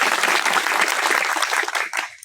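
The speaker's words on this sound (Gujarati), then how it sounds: "આપ જોરદાર તાળીઓ તેમને વધાવી" Crowd at a Koli community gathering breaking into applause, a thick burst of clapping that holds steady and then thins toward the end, with no speech over it.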